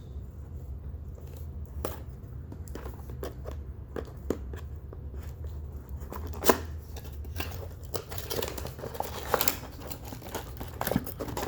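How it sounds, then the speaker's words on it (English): Tape on a Transformers figure box being cut open, with a series of close, sharp crinkling and snipping sounds at irregular intervals over low room noise. "So let's cut the tape."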